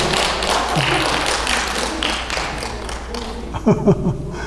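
At a church service, a congregation claps in welcome for a newcomer, a loose patter of hands at moderate distance that thins out, while someone speaks and a few low chuckles and thumps appear near the end.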